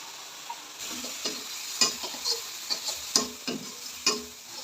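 Fish masala being stirred in a pan with salt and spices: a steady run of sharp spoon-on-pan clicks and scrapes over a faint continuous sizzle, close and fairly quiet, with no talking.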